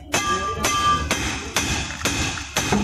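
A hammer strikes a loose driveshaft coupling on a pickup, six sharp metallic blows at an even rhythm about half a second apart, close and loud with ringing decay between hits.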